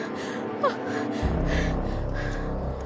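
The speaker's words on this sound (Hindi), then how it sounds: "एक युवती उनकी खाट पर बैठी बुरी तरह हाँफ रही थी।" A young woman sitting on a cot pants heavily, her rapid, breathy gasps close and fairly loud, with a short vocal catch partway through, set in an animated Hindi drama.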